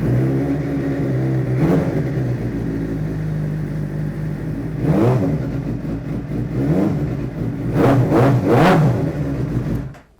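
A fast motorbike idling steadily up close, with a series of sharp throttle revs rising above the engine drone, several in quick succession near the end before it cuts off.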